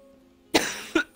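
A person coughs three times in quick succession, each burst short, close and loud, the first the strongest, after a quiet pause.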